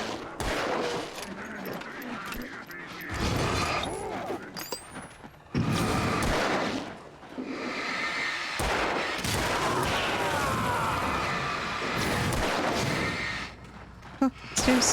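Repeated gunfire and heavy bursts rattle through a combat scene in Alan Wake, loud and dense, with brief gaps between volleys and some noisy rumble.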